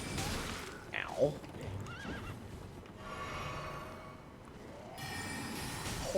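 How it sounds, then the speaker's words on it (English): A horse in the game Elden Ring whinnies and snorts, its neigh rising sharply around the one-second mark, followed by rustling, muffled movement and distant game ambience; a louder burst closes the short stretch. "Horse kicking on command."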